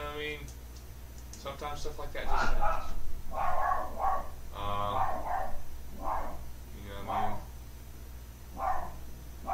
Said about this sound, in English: That was a dog upstairs.